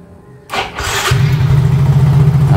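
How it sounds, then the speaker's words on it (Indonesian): A Yamaha X-Ride motorcycle engine cranks briefly with the starter, catches, and settles into a loud, steady close-up idle that runs to the end. "Teman-teman bisa lihat motornya langsung hidup dan nggak ada masalah lagi"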